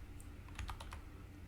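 Keys tapped in a short burst on a computer keyboard while a save command is typed into statistics software, several quick clicks clustered near the middle over a steady low background hum.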